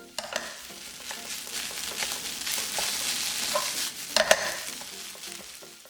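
Rice is stir-fried in a pan with bacon, zucchini, oyster sauce and sesame oil. Continuous sizzling runs under repeated scraping and stirring strokes, with a few sharper clacks of the utensil against the pan.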